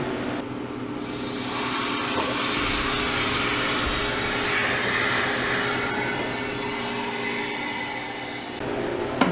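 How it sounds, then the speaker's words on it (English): A freeze dryer's drain valve opened after a batch of Mexican-style beef stew, letting air rush in with a loud, steady hiss and rumble that holds for several seconds before fading, with no speech. "I'll open the drain valve and take it out and check it."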